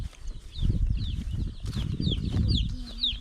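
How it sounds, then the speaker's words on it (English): Young chicks in an outdoor chicken tractor cheep and cluck in high, repeated chirps over low rustling and scratching, with a steady close-up bustle throughout. "we have a chicken tractor with a bunch of chickies in it"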